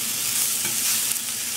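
Tofu sautéing in a pan for sweet and sour tofu: a continuous close, loud sizzle and crackle with gentle stirring scrapes, no voices.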